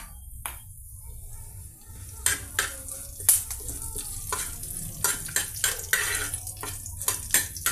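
Tempering seeds, red chillies and curry leaves fry in hot oil with a steady low sizzle, punctuated by repeated sharp scrapes and clinks of a spoon stirring the pan, close and fairly clear.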